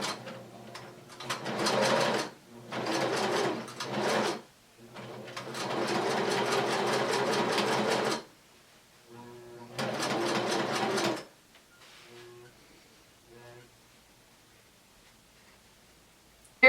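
A sewing machine zigzag-stitching the edges of cut shirt fabric pieces, running in several close bursts of rapid mechanical chatter separated by short pauses, then falling quiet.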